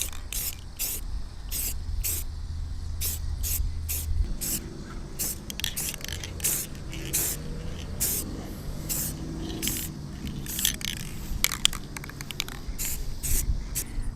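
Bursts of Rust-Oleum aerosol spray paint hissing on and off in quick, uneven pulses, fairly close, with faint rustling between sprays.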